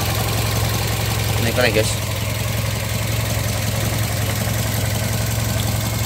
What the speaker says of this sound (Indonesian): mesinnya halus pol, nyaris tak bersuara ya